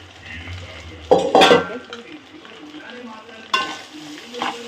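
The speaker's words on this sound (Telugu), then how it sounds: "నెక్స్ట్ ఈ రైస్ అంతా ఇలా వేసేసుకొని" Cooked rice for egg fried rice is stirred and tossed in a hot pan, with sizzling and scraping from a spatula and a couple of louder metallic clanks, up close with no talking.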